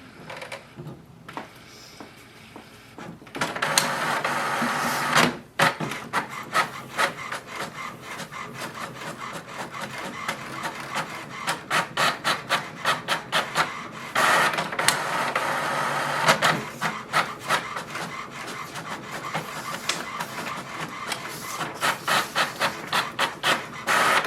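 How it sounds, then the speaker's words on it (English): An HP Envy 6455e printer prints, with close, repeated scraping and whirring passes of the print carriage, separated by brief pauses and clicks, and no talk. "So here we can see the printing is so easy with this printer."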